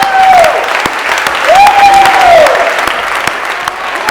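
A church congregation applauds in a burst of steady clapping, with sustained sung or held voices rising over the crowd noise.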